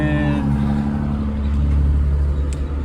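A car pulls away from a store parking lot, its engine giving a steady low rumble and drone that holds throughout at close range, with no talk over it.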